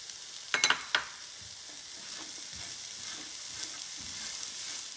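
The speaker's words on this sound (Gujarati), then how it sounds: "હવે આપણે આવી રીતે મીડિયમ ગેસ ઉપર 5 થી 6 મિનિટ સોતે કરી" Peas sauté in a pan over a medium gas flame, a steady close sizzle running throughout after a few short clinks of a utensil near the start, with no talking.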